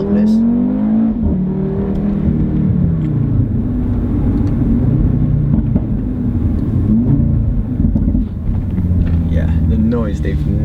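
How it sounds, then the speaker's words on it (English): An Audi RS3 engine drones steadily while driving, a continuous throaty rumble with subtle pitch shifts as revs rise and fall, under someone talking throughout. "they've nailed the noise of this car"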